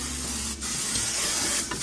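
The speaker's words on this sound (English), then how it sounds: "Give it a good spray of some cooking spray." Cooking spray hisses out of a can into a casserole dish in two close, loud bursts with a short pause between them.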